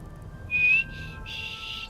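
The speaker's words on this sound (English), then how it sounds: "I admit I'm not that good at whistling." A video game player character whistles a short, breathy tune, one brief note followed by a longer held tone, faint and alone over a low background hum.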